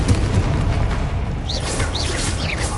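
In the Hogwarts Legacy video game, Bombarda and Confringo spells go off as a continuous, loud rumbling boom, with whooshing, crackling bursts layered over it.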